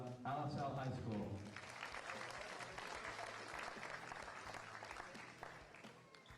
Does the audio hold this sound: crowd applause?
yes